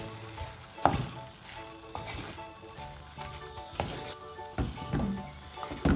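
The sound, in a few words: mixing onions in a pan for cuttlefish curry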